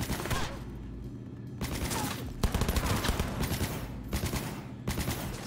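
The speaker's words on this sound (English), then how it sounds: "Oh, Judy has a smart gun." Rapid automatic gunfire from a smart gun in a shooter video game, dense bursts with short pauses between them, loud and close, with a voice briefly under the shots.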